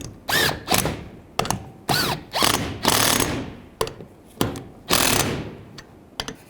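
Ratchet tightening the bolts of a windshield wiper motor on a 2010-2017 Chevrolet Equinox, heard as close, loud bursts of rapid clicking in repeated strokes, each burst separated by brief pauses.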